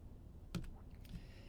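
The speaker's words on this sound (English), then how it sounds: "If I want the dotted line to go away, I just hit the escape button in the upper right on your keyboard." An escape key is pressed on a computer keyboard, two short sharp clicks about half a second apart against a quiet background.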